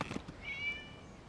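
A cat's meow in the video game Genshin Impact, a single faint, thin, drawn-out call rising briefly then trailing off.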